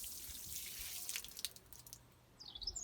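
Water splashes and trickles over freshly potted seedlings, soft and close, in short uneven bursts with a pause before a final patter.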